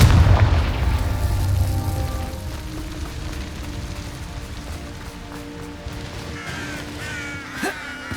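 A Confringo fire spell explosion in the Hogwarts Legacy video game: a loud, deep blast opens the clip, then a lower crackling rumble trails off and keeps going under a layer of background music.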